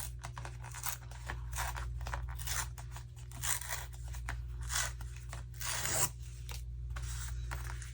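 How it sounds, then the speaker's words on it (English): Paper being torn by hand in a craft studio setting, a steady stretch of rough crackling and ripping that runs the whole time at moderate level, with a low constant hum beneath. "I'm going to try and rip this."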